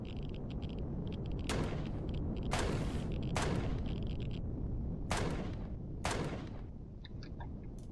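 Weapon fire in the space survival game Empyrion, fought in zero gravity: five sharp, loud shots ring out at irregular intervals over a constant low rumble, with no speech.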